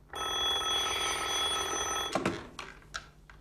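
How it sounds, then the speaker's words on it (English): A telephone rings with a steady bright electronic trill for about two seconds, then stops, leaving faint room clatter and small knocks. "Answer the phone, Nadine."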